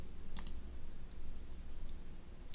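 A few sharp computer mouse clicks sound while a slider is animated in GeoGebra: a quick double click early on, then single faint clicks spaced apart over a low steady background hum.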